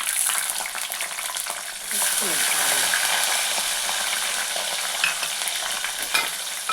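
Onion and garlic, including small shallots, fry loudly in oil in a pan for a Tamil vatha kulambu, a continuous close sizzle with stirring scrapes, briefly swelling as more goes in.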